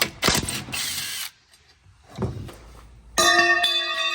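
Sharp metallic clicks and ratcheting rasps come in short bursts with quiet gaps as a bolt is worked loose with a 6 mm Allen key, ending in a ringing metal clatter.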